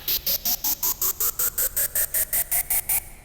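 A synth riser pulses in quick, even bursts, each one climbing higher in pitch across about three seconds before cutting off.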